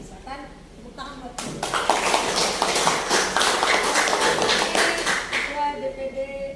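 An audience at a NasDem party gathering in South Tangerang breaks into applause, dense rapid clapping rising after a speaker's voice and fading out as the speech resumes.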